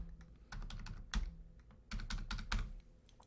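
Rapid keystrokes on a computer keyboard while entering text in CorelDraw, clustered in short bursts of clicky taps with brief pauses between them, close and clear with no voices.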